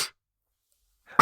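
A single sharp sneeze bursts out at the end after near silence, close and loud, preceded by a brief faint breath at the start.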